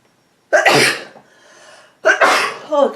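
Two sharp sneezes from someone with bad allergies, close and loud, separated by a short pause with faint breathy noise between them.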